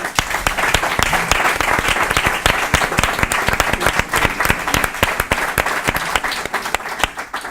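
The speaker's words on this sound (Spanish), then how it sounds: "Un aplauso enorme." Audience at a women's colloquium gathering gives big applause, a loud, dense wash of many hands clapping close by, steady throughout with a few sharper individual claps.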